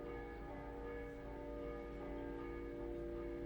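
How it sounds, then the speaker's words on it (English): A church bell cast by Canciano dalla Venezia rings in Cottonera, Malta, its sustained metallic hum and overtones droning steadily at a distance, faint but continuous, with no talking. "you can hear in the background another bell by Canciano della Venezia"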